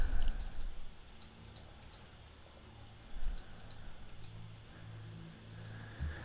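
A computer mouse clicking in Visio, heard as quick bursts of sharp, light clicks in two or three clusters, close by, over a steady low room hum with no talking.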